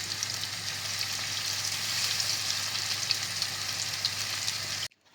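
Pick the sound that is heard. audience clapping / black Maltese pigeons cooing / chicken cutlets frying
chicken cutlets frying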